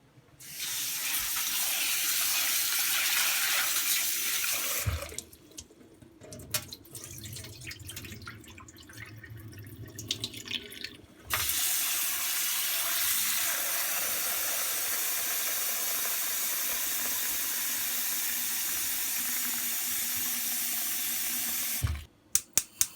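Water running from a tap into a pot of green lentils set to boil, a steady rushing hiss that stops briefly midway, then flows again until a few final clunks.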